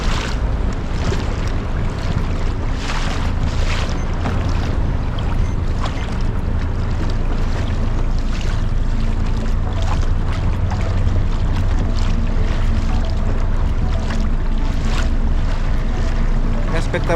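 Sea waves and wind wash steadily around a fishing kayak out on choppy open water, a continuous loud surging roar with wind buffeting the microphone throughout.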